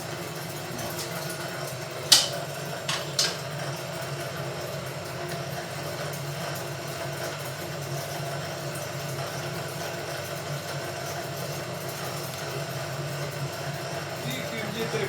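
Gravity dough mixer running with a steady low mechanical drone and hum, close and continuous, with a couple of sharp clanks near the start.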